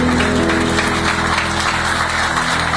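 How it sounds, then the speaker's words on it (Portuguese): A church congregation at a healing and deliverance service claps together, a loud, dense burst of applause that runs steadily through the short span, with tonal hum from the sound system underneath. "Vamos aplaudir ao Senhor Jesus"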